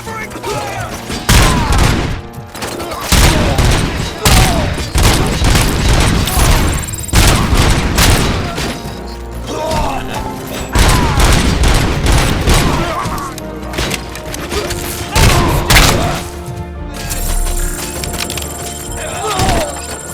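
Sustained gunfire rages in RoboCop: Rogue City, with repeated bursts and heavy booming volleys across the whole stretch, loud and dense, punctuated by thuds and impacts amid a noisy combat mix.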